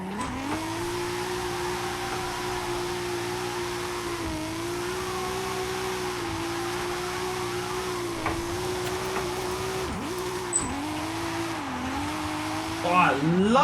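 A Lexus LC300 drifting, its engine holding a steady loud drone with small dips and pitch shifts as it shifts through gears, tires hissing beneath and a rising rev at the end.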